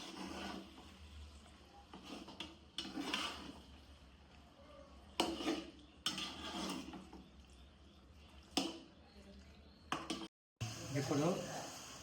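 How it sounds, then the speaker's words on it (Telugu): Soaked chicken pieces are stirred in a pot for country chicken pulav, making faint, irregular scraping and rubbing strokes with short pauses between them. "ఇందులో వేసుకున్న చికెన్ బాగా కలుపుకుందాం."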